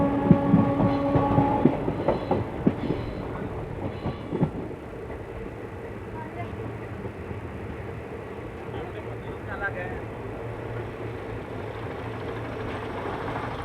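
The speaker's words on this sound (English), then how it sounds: "After traveling 93 kilometers all the way from Mysuru, we have reached our scheduled halt Ramanagara, station code RMGM." The Chamundi Express passenger train rolls along the Mysuru–Bengaluru line with a low, steady rumble and rattle of the coaches, louder clanks at the start easing into a continuous drone while a person talks over it.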